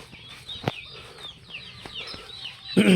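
Chickens on a farm clucking softly after being fed, scattered short calls and a few sharp sounds close by, with a louder burst at the end.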